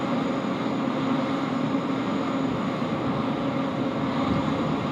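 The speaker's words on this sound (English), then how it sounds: "we'll be seeing this A330 roll very," An Airbus A330 starting its takeoff roll at Sydney Airport makes a steady, broad jet roar that holds at an even level throughout, distant but full, with no talking.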